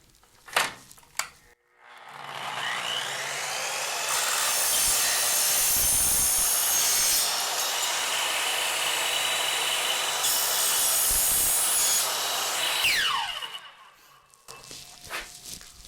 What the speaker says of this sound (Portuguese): Eu corto então mais ou menos onde eu vejo que a serra vai pegar o 45 ali